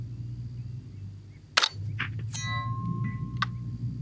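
A single sharp crack from a Savage A22 Pro Varmint rifle, followed by a few short metallic pings and a ringing tone that could be a distant steel target being struck. Steady background hum, no voices.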